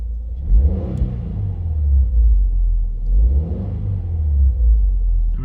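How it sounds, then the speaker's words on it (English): A 2022 Subaru WRX engine revs twice from idle, each blip swelling into a deep rising roar before falling back to a steady low rumble, close and loud with no talking. "Let's see if I rev it."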